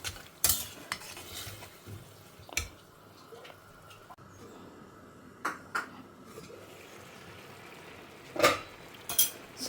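Siru keerai greens cooked with dal being mashed in a pan: soft, quiet squishing and stirring, broken by a few sharp clinks of the spoon against the metal.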